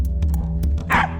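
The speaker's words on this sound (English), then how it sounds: "And that bark means Vader's found something" A dog barks at a hollow tree on a farm, a few short sharp barks and yips in quick succession, close and loud, with no talk.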